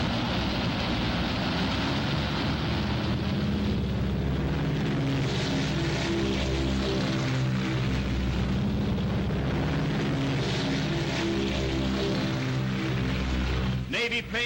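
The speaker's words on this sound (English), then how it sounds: "Navy planes roared from the decks of our carriers" Propeller-driven Navy warplanes taking off from aircraft carrier decks during the Battle of Midway, 1942: a loud, continuous roar of engines and propellers drones steadily throughout without letting up.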